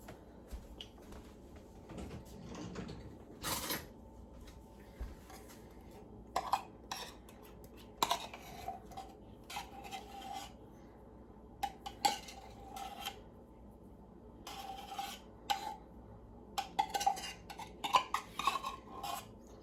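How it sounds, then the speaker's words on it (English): A spoon scrapes and clinks against a crockpot container while homemade hot chocolate is dug out, with scattered sharp metallic knocks and scrapes at irregular intervals across a quiet kitchen background. "I'm gonna grab a spoon because this is taking forever to get out."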